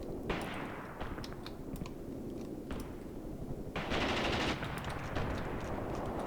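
Machine gun bursts and scattered gunshots crackle continuously in the Graviteam Tactics war game as high-explosive artillery is called in, with a dense rolling barrage swelling louder partway through.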